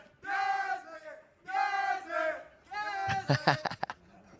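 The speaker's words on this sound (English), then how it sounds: "Still getting the cheer" A live esports arena crowd at a Valorant match between LOUD and KRU roars in three rhythmic chanting swells of massed voices, close and loud, ending with sharper shouts.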